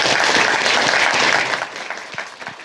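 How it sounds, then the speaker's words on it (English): Studio audience applause for Derek on a live show, loud and dense at first, then thinning into scattered individual claps as it fades out. "Let's clap it up for Derek"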